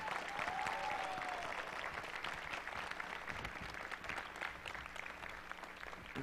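A church congregation applauds during a Sunday morning service, steady loud clapping from a large crowd that continues throughout with a faint voice near the start.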